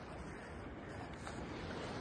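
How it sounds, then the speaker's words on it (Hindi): Open sea off Palolem beach, Goa, heard from a kayak as a faint, steady wash of water and wind noise with no distinct breaking waves. "देखो मैं समुद्र के बीच आ गया हूँ कायाकिंग लेके। देखो चारों तरफ समुद्र समुद्र है।"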